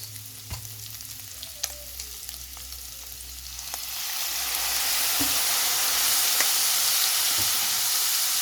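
Beef fries in a pan with black pepper and soy sauce. A steady, close sizzle rises and grows louder and hissier partway through as liquid hits the hot pan, with faint stirring clicks.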